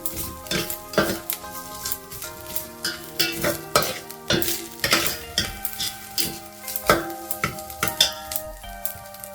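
Ingredients for sweet coconut rice sautéing in a pan, a steady sizzle with brisk, rhythmic stirring and scraping of a spoon against metal throughout, close and prominent, without any talking.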